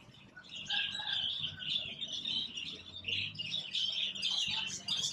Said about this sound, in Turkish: şurada kuşlar var